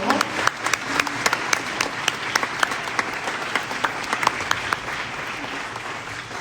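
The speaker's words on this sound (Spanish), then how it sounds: "Un fuerte aplauso, por favor." Enthusiastic applause from an audience at the opening ceremony of a Model UN conference, many hands clapping steadily throughout, with voices faintly mixed in.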